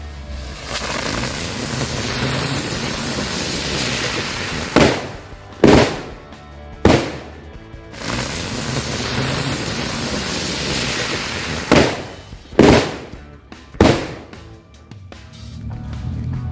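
A ground bloom spinner firecracker whirls and burns with a steady, loud hissing roar, broken by several sharp bangs from nearby firecrackers going off at intervals.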